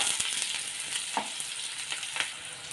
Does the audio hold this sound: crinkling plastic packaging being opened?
no